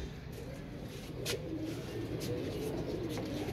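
Royal pigeons coo softly over a constant low background rumble, with a few faint chirps now and then.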